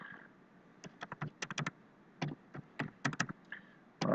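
Keys clatter on a laptop keyboard in quick irregular bursts of taps with short pauses between, close and fairly quiet, with no talking.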